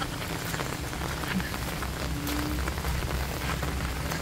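Heavy rain pours during Typhoon Aghon, a loud, dense, unbroken roar of drops hitting surfaces, with faint voices barely present underneath.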